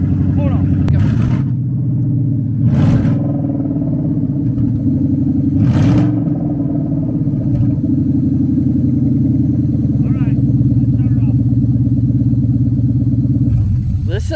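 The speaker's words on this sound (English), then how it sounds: "Should I give it a little rev?" An engine idles loudly and close with a deep, steady rumble, broken by three short revs. Voices talk over it.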